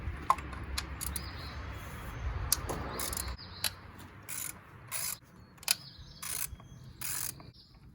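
Loosening valve cover bolts on a 2003-2007 Honda Accord: a hand ratchet clicks in short, sharp bursts at close range, with faint metallic handling between turns.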